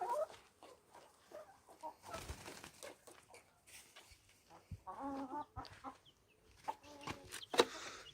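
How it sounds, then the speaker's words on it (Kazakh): A brooding hen sitting on sixteen eggs for the first time gives soft, repeated clucks, with scattered short calls and low rustling throughout, fairly quiet and close by. "Бірінші рет басып жатқан тауық."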